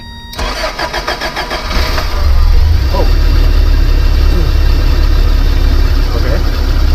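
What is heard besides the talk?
van engine starting and idling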